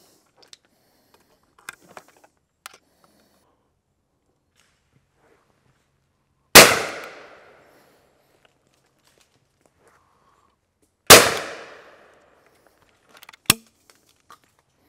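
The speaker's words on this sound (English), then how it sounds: "a little bit of shooting there." Browning B725 Sporter shotgun shooting outdoors, two loud single blasts several seconds apart, each with a booming decay, set against faint clicks and light handling noises.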